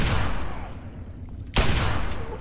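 Two loud pistol shots in Fallout 3, spaced about a second and a half apart, each a sharp crack followed by a decaying echo.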